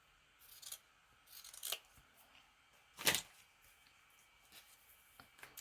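Scissors snip and trim a strip of lace on a junk-mail envelope craft project: several quiet, close crisp cuts in irregular bursts, with faint rustling between them.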